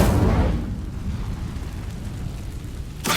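In Hogwarts Legacy, the Incendio fire spell goes off as a loud, deep whooshing burst that roars and slowly fades, then a fresh rumble swells at the very end.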